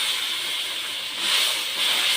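Water hitting a frying spice paste of turmeric, chilli and coriander powder with salt for doi katla fish curry gives a steady loud hiss that swells twice, with no voices.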